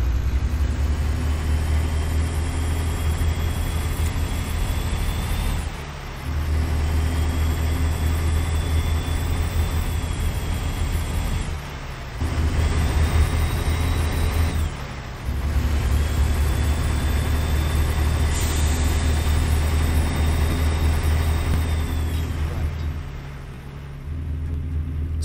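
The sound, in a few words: Freightshaker Classic XL truck, Caterpillar C13 engine, American Truck Simulator video game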